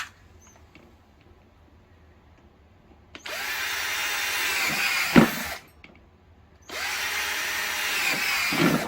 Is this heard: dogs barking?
no